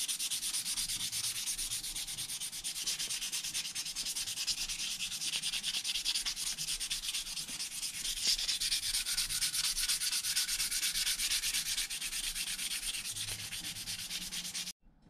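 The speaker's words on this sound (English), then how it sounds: "I think on this one I'm just gonna keep going with the hand sandpaper up to 2000." Sandpaper rubs by hand over a stone pipe in a continuous, close scratching hiss that holds steady for about fifteen seconds and grows slightly louder midway before stopping abruptly.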